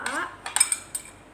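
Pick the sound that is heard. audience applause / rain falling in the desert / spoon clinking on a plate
spoon clinking on a plate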